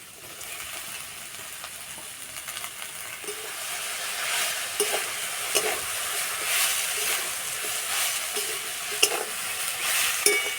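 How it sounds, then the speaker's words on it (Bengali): Washed greens and potatoes are stirred in a pan for a Bengali village-style shak dish, giving a close, continuous frying hiss broken by repeated scraping and clattering strokes. "শাকের সঙ্গে আলু খুব ভালো করে নেড়ে নেব"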